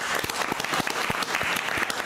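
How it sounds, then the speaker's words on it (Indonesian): Steady applause from a gathered crowd in a streamer meetup event in Indonesia, dense overlapping claps filling the whole moment at a moderate, even level with no talking. "Tepuk tangan buat kalian."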